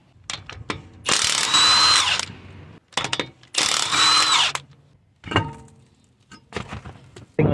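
Removing 21mm lug nuts from a Toyota or Lexus wheel, a power tool fires off two loud, sustained whirring bursts, followed by short clicks, clanks and a few brief rattling spurts of tool and metal handling.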